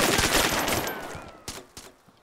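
Gunfire in the DayZ Standalone survival game: a dense burst of shots at the start fades out, followed by two or three sharp separate reports farther off, with no talk over them.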